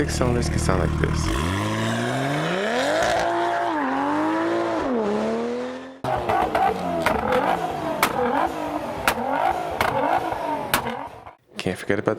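A six-cylinder car engine winds up through rising and falling revs, then a second section brings faster passes with sharp pops and tyre noise. Loud and close throughout, with no talking.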